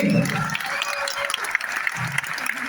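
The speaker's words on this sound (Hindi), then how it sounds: "तालियां रुकनी नहीं चाहिए सर के लिए।" Audience applause at an inspirational talk, a steady wash of clapping from a crowd that stays fairly even throughout, with some voice-like sounds mixed in at the start and again toward the end.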